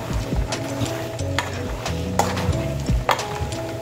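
Peanuts stirred in a little oil in a pan while frying toward light brown, with scraping stir strokes over a steady, close sizzle.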